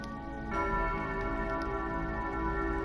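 Bells being played in a resonance puzzle in Harmony Cave in the game AER: Memories of Old: steady ringing tones that swell after a brief start, layered sustained chimes with faint ticking accents, no talking.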